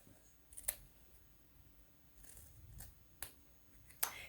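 Scissors clip the corners of fabric in a few sharp, quiet snips, spaced irregularly against a near-silent background.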